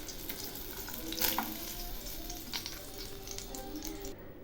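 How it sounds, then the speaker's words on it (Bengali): Sliced onions fry in hot oil in a home kitchen, giving a soft, continuous sizzle with light stirring, quiet and steady throughout. "এখন আমি ওই তেলে সামান্য একটু পেঁয়াজ বেরেস্তা করে নিচ্ছি"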